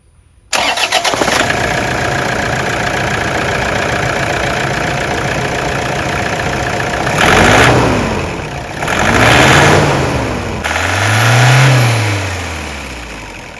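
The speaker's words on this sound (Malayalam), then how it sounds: "ഇനി ഞാനല്ലോ എഞ്ചിൻ സൗണ്ട് നിർമ്മിച്ചു തരാം" A 2014 Toyota Innova V starts and then idles steadily and loudly, with three smooth revs rising and falling near the end, no voices.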